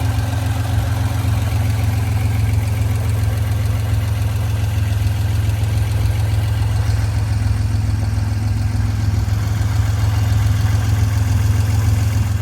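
A 1992 Acura NSX with a five-speed gearbox idling, its engine giving a steady, even low hum with a faint rhythmic tick, recorded close and continuous with no one talking.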